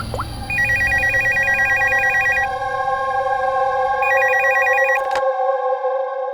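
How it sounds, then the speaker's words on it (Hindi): Telephone ringing while someone calls a store manager: a steady electronic ring with repeating trill bursts, loud and close, then cut off abruptly near the end. "सर इसके स्टोर मैनेजर को फोन करते हैं।"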